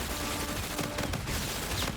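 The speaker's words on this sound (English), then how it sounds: "this pistol has a unique ability where it accelerates as you're shooting" Pistol fire in the shooter Infinite Warfare, from a handgun whose rate of fire speeds up as it keeps shooting, rendered as a quiet rapid string of overlapping shots under a dense game soundscape.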